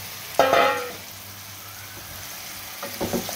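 Pumpkin pieces dropped into spiced masala in a hot pan set off a brief burst of sizzling, which fades to a low hiss before a second, softer crackle of frying rises near the end. No one speaks.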